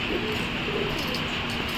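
Madras pigeons coo inside a pigeon house, soft low calls rising from a steady, close background hum with no talking.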